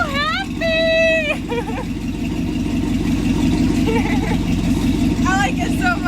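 A 1966 Chevy truck engine runs steadily throughout, its deep rumble holding near and fairly even rather than swelling into clear revs, with brief high whistling tones over it at the start and end.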